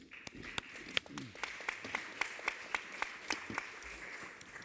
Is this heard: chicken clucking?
no